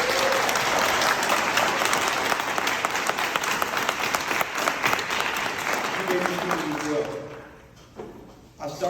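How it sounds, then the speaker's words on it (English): An audience applauds students at a 2022 keynote event, steady broadband clapping filling the room for about seven seconds before thinning out and fading, with a brief renewed burst at the end. "can we give them a round of applause?"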